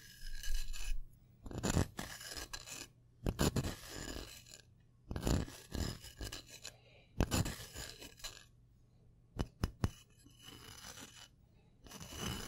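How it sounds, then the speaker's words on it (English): Close ASMR scratching of fingernails on a surface, coming in repeated short rasping bursts with brief quiet gaps between them, soft and intimate with no talking. "here to do some scratching, scratching, scratching."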